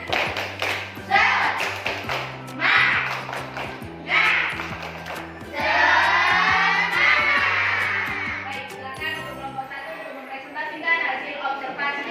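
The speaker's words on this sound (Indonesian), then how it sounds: "Mari kita kasih tepuk semangat buat kelompok 1." A classroom group performs a rhythmic spirit clap, sharp patterned claps in bursts alongside chanting voices, with brief pauses between phrases before a softer, scattered ending.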